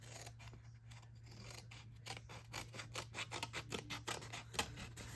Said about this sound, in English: We do need to snip again these bottom pieces.